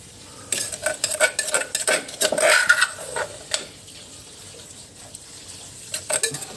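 A utensil scrapes and clinks against a pan or pot while cooked bird stir-fry (khua nok), made rustic Thai country style, is scooped out. The scrapes come close and fairly quiet in short irregular bursts, then quieter stretches.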